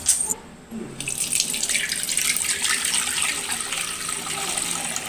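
Water pours steadily for about five seconds, a continuous splashing stream like a tap filling a vessel, fairly loud and close with a brief dip near the start, while ajwain water is being made at home.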